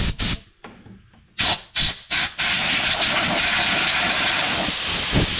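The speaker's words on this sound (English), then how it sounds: "I have my air compressor here." An air compressor's blow gun fires air in a series of short, sharp hissing bursts during fuel pump work on a KRX, then holds a loud, continuous close blast of air to the end.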